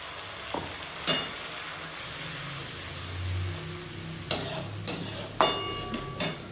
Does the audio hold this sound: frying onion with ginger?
yes